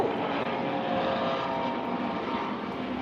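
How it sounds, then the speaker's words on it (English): A life-flight rescue helicopter flies overhead, its engine and rotors making a continuous, fairly loud drone that stays steady throughout. "that looked like some kind of rescue helicopter."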